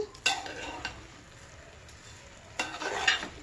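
A spatula scrapes and stirs raw mango puffed rice masala in a hot pan over high heat, two louder scraping strokes standing out over a faint background sizzle.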